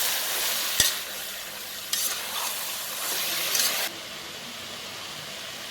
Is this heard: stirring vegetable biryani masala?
yes